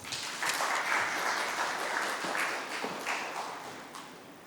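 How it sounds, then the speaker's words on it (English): Conference attendees at an international shipbuilding event clap steadily to welcome the chairman, a full round of applause that swells early and fades out toward the end. "Let's welcome him with a round of applause"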